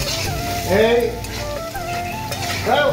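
Salt and turmeric fry in a pan with a close, loud sizzle and spatula scraping, while short rising whistle-like squeaks cut through twice over the cooking noise.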